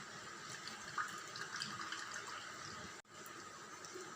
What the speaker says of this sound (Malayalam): നമ്മളിങ്ങനെ പാൽ ഇങ്ങനെ ഒഴിക്കുന്നുണ്ട്